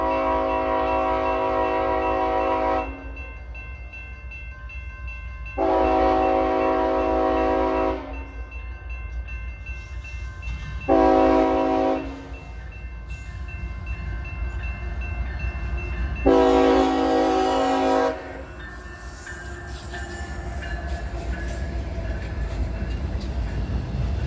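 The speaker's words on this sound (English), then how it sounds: "CSX I-007 coming west through town." CSX intermodal stack freight train heading west through town, sounding its horn in several long blasts over a steady rumble of rolling cars, loud and fairly close.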